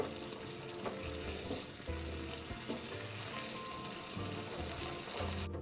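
Minced pork sauce, thickened with a cornstarch and water slurry, bubbles and sizzles in a pan over high heat. A soft, steady frying hiss carries faint stirring scrapes, with no voices.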